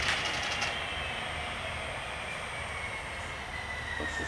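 Model train locomotives labour around a layout, a steady whirring rail-and-motor drone with faint squeals and a few light clicks, continuous and fairly quiet.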